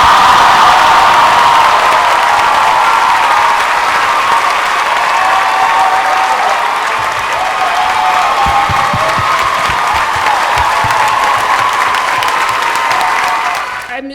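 A large audience at a film festival Q&A applauds loudly and continuously, with scattered cheers mixed into the sustained clapping that fades slightly near the end.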